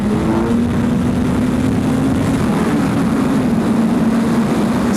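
Kawasaki Z1000 motorcycle engine pulling hard in second gear during a wheelie, a loud, steady, close drone with a rising pitch that holds throughout, no voices.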